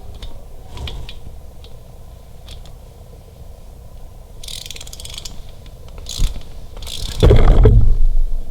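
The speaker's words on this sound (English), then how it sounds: "After all of them are finger tight, they all get torqued to 140 inch-pounds" A torque wrench ratchets up close as bolts are tightened on a Harley-Davidson Milwaukee-Eight engine during a Red Shift cam install. Steady clicking turns into louder rapid ratcheting bursts, with a final click and a heavy clunk near the end.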